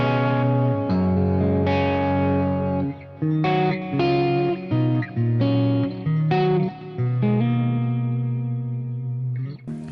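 An electric guitar with humbuckers plays a lead line through a Helix modeler with the distortion bypassed. Sustained, fairly clean notes ring with chorus-like shimmer and reverb. The phrases are played alone, with no talking.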